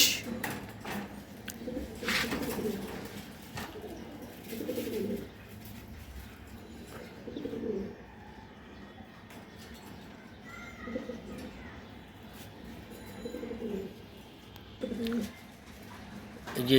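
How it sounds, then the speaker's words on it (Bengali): Racing pigeons, including a blue pied auction bird from a 2024 club race, coo in repeated soft low bursts at close range, with a faint background hum and no talking. "এই যে এখানে একটা কবুতর আছে"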